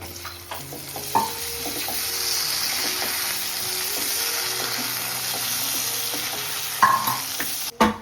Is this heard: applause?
no